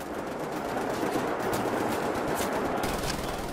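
Sustained automatic machine-gun fire in Wolfenstein: The New Order, a dense, steady rattle running loud and unbroken throughout with no pause.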